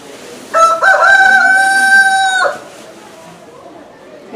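A single loud, close rooster crow rings out for about two seconds in a clear harmonic call, followed by quiet background.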